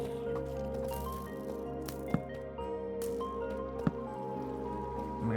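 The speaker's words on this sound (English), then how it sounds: "Ah, that's water." Water drips in the Minecraft video game as two sparse, faint, sharp drops spaced a couple of seconds apart, over a steady soft background of game ambience.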